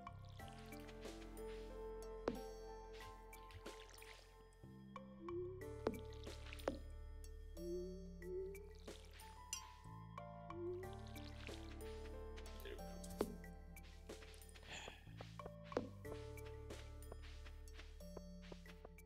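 Cartoonish game sound effects from watering crops in Stardew Valley: a run of soft squishy, drippy liquid blips and tonal chimes repeating in quick rhythm, clean and close, with no talk.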